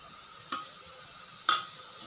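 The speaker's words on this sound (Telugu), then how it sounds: "మసాలాలన్నీ కారం ఇవన్నీ బాగా వేసుకోవాలి పచ్చివాసన పోయేంత వరకు బాగా ఫ్రై చేసుకోవాలి" Masala and chilli powder frying in a pan for a small fish curry, a faint steady hiss with two sharp scraping stirs, the second louder, and no voices.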